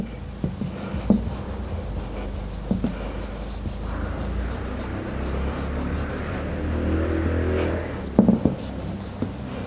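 Charcoal drags across paper in continuous soft scratchy lines, close and quiet over a steady background rumble, with a few light taps and bumps.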